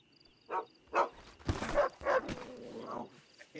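A dog in the Red Dead video game gives several short barks and yips in an uneven sequence, close and clear against a quiet background.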